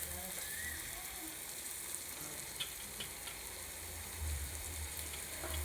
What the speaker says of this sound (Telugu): ఇప్పుడు ఉల్లిపాయలు వేగిపోయినాయండి.